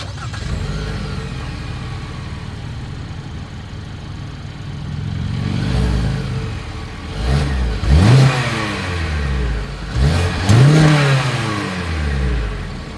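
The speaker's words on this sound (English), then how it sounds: "As always, here is that exhaust clip." A 2022 Kia Sportage compact SUV idles with a low exhaust rumble, then revs sharply several times, each rev rising and falling loudly close by.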